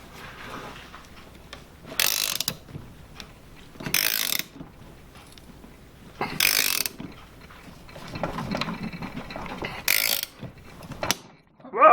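Bursts of rapid ratchet clicking as a socket wrench tightens a nut during shaft seal work, four loud separate runs of about half a second each, set apart by quieter handling noise and light knocks.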